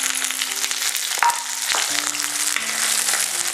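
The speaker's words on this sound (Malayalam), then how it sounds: "ഇത് എണ്ണയിൽ കിടന്ന് നന്നായിട്ടൊന്ന് വഴന്നു വരണം" Garlic, green chilli, ginger and curry leaves frying in oil, a close continuous sizzle with a few light knocks and scrapes of a spoon in the pan.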